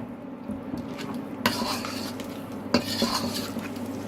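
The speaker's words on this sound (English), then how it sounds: "Mix the soy sauce in." Soy sauce being stirred into a thick vegan nut roast mixture in a bowl, with scraping and clinking of a utensil against the dish, two sharper knocks standing out over a steady low background hum.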